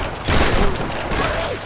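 Shotgun fire in the video game Tomb Raider: loud, close blasts that merge into a dense burst of gunfire and rumbling noise, running through the clip.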